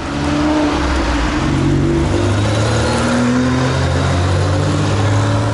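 Several powerful sports cars, including a BMW i8 and Porsche Carrera GT, rev and accelerate nearby at a Paris rally, their rising drone building into a loud, continuous roar as they pull away.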